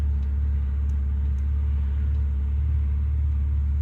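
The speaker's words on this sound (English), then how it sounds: "it is surging in idle a little bit" A 1989 Chevrolet Celebrity engine with a failed lower intake manifold gasket idles with a slight surge. It makes a steady, close, low rumble that holds fairly even, with no talk over it.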